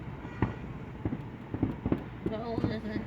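Fourth of July fireworks exploding nearby, a series of sharp booms and cracks scattered irregularly over a few seconds, with a crowd murmuring and people talking underneath.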